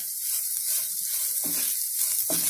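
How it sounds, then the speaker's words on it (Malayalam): Salted masala filling stirred in a hot pan, a continuous close sizzle broken by a couple of louder scraping strokes, no voices. "നന്നായിട്ട് ഇളക്കി കൊടുക്കാം"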